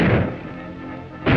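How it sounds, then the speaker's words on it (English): A gunshot from a 1944 Western drama, a loud sharp blast that opens the moment, fades into a ringing tail, and is followed by a second burst near the end. "You and Charlie go find out who's doing that shooting and stop him."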